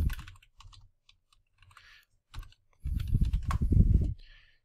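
Typing on a computer keyboard, with quick irregular bursts of key clicks close by that build into a denser, louder flurry near the end.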